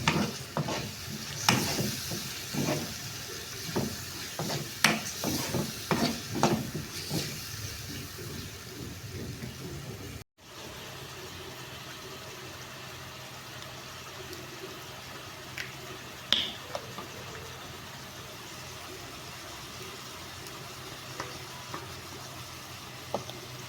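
Masala being mashed and fried in a pan for macaroni: a spoon scrapes and presses in quick, busy strokes over a steady sizzle, then the stirring stops and the frying hiss carries on evenly with only occasional soft taps.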